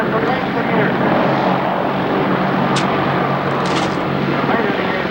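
An aircraft flying rearward at an airshow produces a loud, continuous engine roar that stays steady throughout, with no speech over it.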